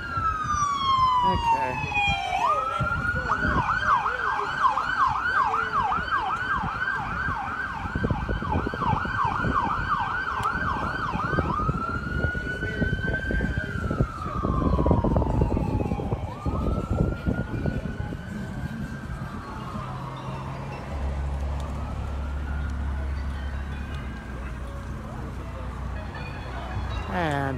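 An ambulance siren wails loudly and close, cycling through fast yelps before sliding into slower rising and falling tones as it passes and fades, amid crowd and street noise on West Florissant at Canfield, with a brief spoken word.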